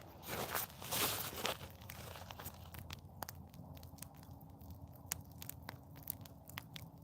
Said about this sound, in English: Can you guys hear that fire crackling?